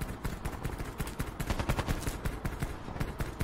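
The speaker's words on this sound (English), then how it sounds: "He's got a burst fire weapon." Rapid bursts of burst-fire weapon shots in Call of Duty: Black Ops 4 Blackout, loud, dense cracks in quick clusters repeating throughout without pause.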